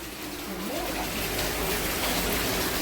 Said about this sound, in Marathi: आमच्याकडे लय पाऊस चालू आहे